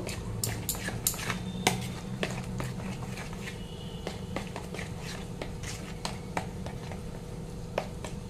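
Oats and water are stirred together in a mixing bowl, producing repeated close scraping and clinking of a utensil against the bowl in an uneven rhythm, with no speech.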